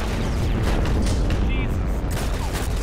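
Gunfire aimed at the player in the war shooter Heroes and Generals: a dense, continuous barrage of shots and booming blasts with a loud, sustained rumble throughout, with voices faintly mixed in.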